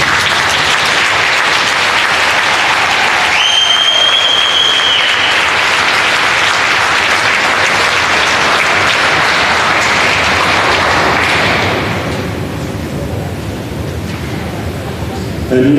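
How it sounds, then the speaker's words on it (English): A large crowd claps loudly and continuously, with a brief whistle or cheer partway through, the applause thinning slightly toward the end. "we can give them one last round of applause"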